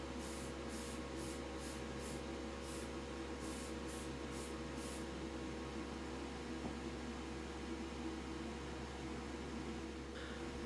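A Tamiya Fine Primer spray can gives a run of short, even hissing puffs over a steady mechanical hum, then the spraying stops and only the hum remains.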